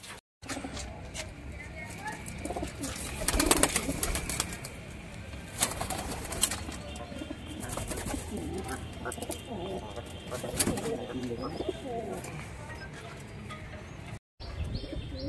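Rajshahi Giribaz pigeons coo steadily, with other bird calls and chirps mixed in, while people talk over them throughout.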